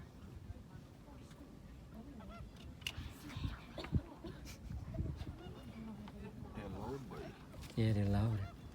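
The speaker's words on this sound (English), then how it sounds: "Now approaching the flamingos." Flamingos at Caroni bird sanctuary give loud goose-like honking calls, mixed with boat and background noise and people talking nearby, with a strong burst of honks near the end.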